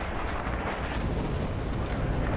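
Artillery barrage in Red Orchestra 2, a constant heavy rumbling roar of overlapping explosions, loud and dense from start to finish.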